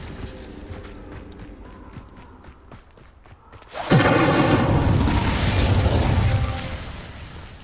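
Confringo explosive spell in Hogwarts Legacy hits with one loud, booming blast that follows a run of faint clicks and taps, then rumbles on for a few seconds before fading.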